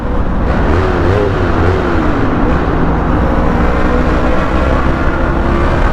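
A Yamaha R3 motorcycle engine revs and downshifts inside a tunnel, a loud, steady roar from the rider's position with a pitch that rises, dips and settles, echoing around the rider, with no talk.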